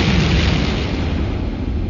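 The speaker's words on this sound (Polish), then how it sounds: "Bomba eksplodowała o" A bomb detonates in a cellar beneath a collapsing ceiling, one loud sustained rumbling blast that slowly decays over two seconds.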